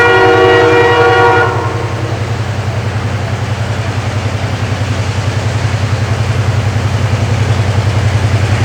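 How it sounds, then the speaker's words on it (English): A locomotive in Habarana, Sri Lanka, sounds a loud, sustained horn that stops after about a second and a half. A steady, heavy rumble of the passing train carries on strongly throughout. "Suddenly I heard the signal of a locomotive"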